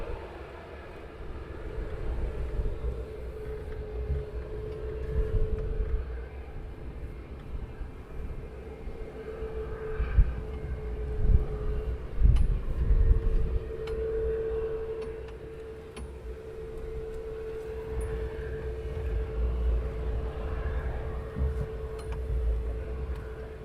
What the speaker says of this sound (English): Oh, another Bizjet taxiing down